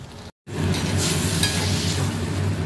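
Duck meat frying in a pan, a steady, close sizzle with a constant crackle and low bubbling that runs on after a brief cut near the start.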